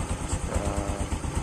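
A motorcycle engine rumbles nearby in a quick, uneven putter, ridden before dawn on the way to a distant mosque.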